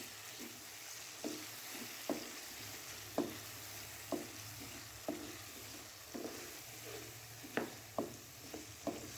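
Potato and capsicum fry in masala in a pan under a soft, steady sizzle, while a spoon scrapes through them in regular strokes about once a second, close and fairly quiet.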